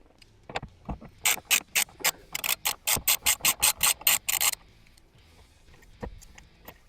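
A ratchet wrench backs out the bolts holding the washer bottle in the engine bay of a Mazda MX-5 NB2, giving a steady run of about a dozen loud, close, rasping clicks followed by a few softer knocks.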